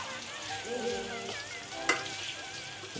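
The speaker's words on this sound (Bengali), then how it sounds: "আমরা গরম তেলে এখন দিলাম পেঁয়াজ কুচি 1 কাপ, আর রসুন বাটা 2 টেবিল চামচ" Chopped onion and garlic paste frying in hot oil for chicken roast, a soft steady sizzle at moderate volume, with a faint tonal whine in the background and one sharp knock near the middle.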